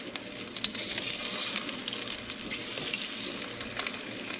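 Potatoes sizzle and crackle in a pan of melted-down fat, a dense steady hiss with scattered pops and stirring scrapes, close and alone without any talk.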